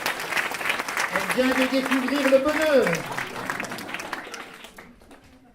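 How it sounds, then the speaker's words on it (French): Audience applause at a live French stage show rises under a singing voice, swelling briefly and then thinning out into scattered claps as the song line ends. "Mesdames et messieurs, on peut applaudir Karine."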